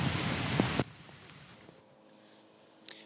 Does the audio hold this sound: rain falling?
yes